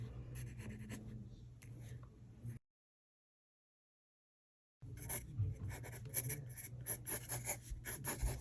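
Pencil sketching a moth character on paper, soft scratchy strokes close by that stop abruptly for about two seconds of total silence, then resume busier with quick tapping marks.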